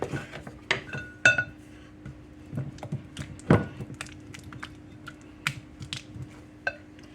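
Softened butter is stirred in two bowls with light clattering and tapping of utensil against bowl, irregular soft knocks and scrapes at close range, with no talking.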